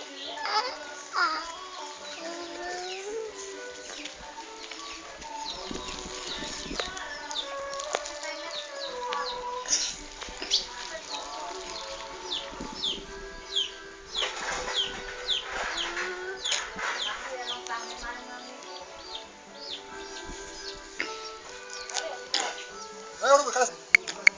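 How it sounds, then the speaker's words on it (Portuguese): Chickens cluck and squawk repeatedly with occasional wing flaps, while people chatter nearby throughout. "É a galinha."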